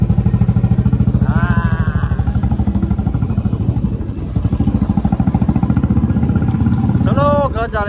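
A motorcycle engine runs steadily right after being started, a close, loud, rapid throbbing idle that continues throughout, with brief voices rising over it.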